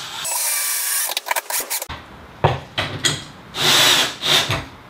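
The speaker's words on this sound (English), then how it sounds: "I've got my socket on the end of my drill." Cordless drill fitted with a 3/8 inch socket, running in several short bursts and whirring spins with brief pauses, close and fairly loud, mounting hardware for a ceiling or under-deck rack.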